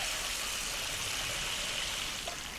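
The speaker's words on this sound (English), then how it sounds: "We fry up some onions, garlic and ginger in a generous amount of palm oil." Sambal belacan fries in a generous amount of palm oil with onions, garlic and ginger, a steady, dense sizzle hissing throughout, close and even with no clear stirring strokes.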